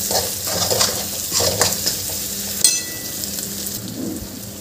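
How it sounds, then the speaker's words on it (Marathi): A ground masala paste for restaurant-style bhindi masala sizzles in oil in a pan while it is stirred, with steady frying crackle, repeated scraping strokes and a sharp clink of the spoon partway through. "आपल्याला तेल सुटेपर्यंत हे छान शिजवून घेते मी."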